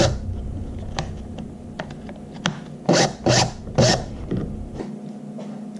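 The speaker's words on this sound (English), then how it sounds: "We're going to loosen up these screws just a little bit here." Small screws being loosened on a Hobie kayak rudder: soft scraping and ticking from the tool, then three louder rasping turns in quick succession, close and alone over a low steady hum.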